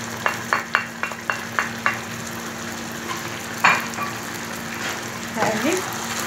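Meat with spices frying and being stirred in a pot: a short run of quick spoon scrapes and clinks against the pot at the start, then a steady sizzle with a few later stirring knocks.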